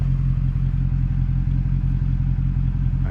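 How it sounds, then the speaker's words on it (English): A 2002 Mercedes-Benz S500 with a 5.0 V8 and straight-piped exhaust idles loud and close, a steady, throaty rumble with a rapid pulsing beat and a slight clatter, and no talking. "I cut the exhaust off, so it sounds ridiculous right now."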